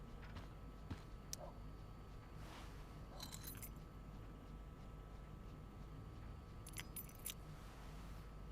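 Keys jangle faintly in Life is Strange: Before the Storm, a few soft metallic clinks scattered over a steady low background rumble, with no talk.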